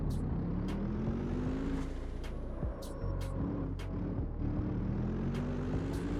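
A Mercedes AMG engine idles and grumbles at low RPM in the CarX Street racing game, a deep steady rumble that dips briefly midway and then resumes, with no talking.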